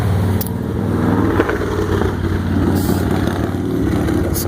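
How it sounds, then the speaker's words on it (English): Motorcycles pass by near a backyard garden, their engines a loud, rough drone that swells and fades as they go, with a brief rising rev partway through and no talking. "Got some motorcycles coming by here"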